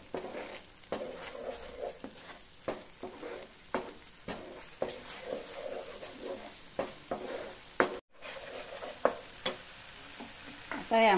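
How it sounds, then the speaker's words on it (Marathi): Methi malai matar ingredients sautéing in hot oil, a soft continuous sizzle broken by regular scraping stirs of a spoon against the pan, close and fairly quiet. "आता आपण हे छानपैकी तेलामध्ये परतून घेऊया।"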